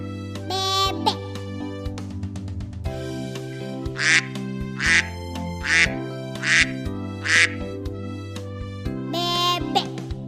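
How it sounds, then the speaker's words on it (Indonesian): A farm duck gives a run of loud, nasal quacks in a steady, evenly spaced rhythm over background music, close and clear throughout. "Bebek."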